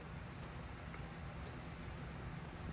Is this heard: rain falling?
yes